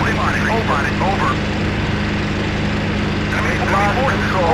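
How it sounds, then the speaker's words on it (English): A helicopter in Battlefield 2 drones with a continuous, loud engine and rotor hum, while radio-style voice callouts come and go over it. "Enemy helicopter, enemy helicopter."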